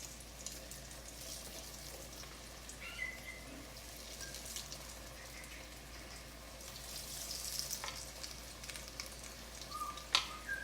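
Zucchini and squash pieces frying in very hot oil give a steady, soft sizzling hiss that runs throughout at low volume, with faint crackles and pops scattered over the top.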